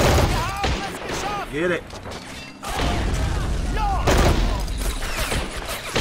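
Rapid machine gun bursts and other combat gunfire in the World War II strategy game Men of War Assault Squad 2 crackle loud and dense, with a short lull partway through, while players talk excitedly over the shooting.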